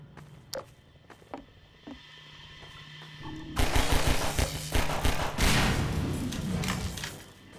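A flashbang grenade goes off in the video game Half-Life 2. Scattered mechanical thuds come first, then a sudden loud burst gives way to a long, rough, crackling roar that slowly dies away.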